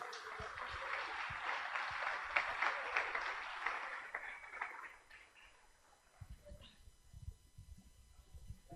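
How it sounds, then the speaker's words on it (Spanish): Applause from an audience at a women's church convention swells loudly for several seconds, then thins to scattered claps and fades. "Démosle un fuerte aplauso."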